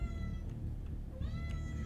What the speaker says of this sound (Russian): Софи, что такое котенька?